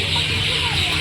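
Birds calling outdoors in a calm early-morning setting, a steady, fairly loud flock sound that sounds like fowl clucking more than chirping. It continues without pause over a low background hum, with no talking.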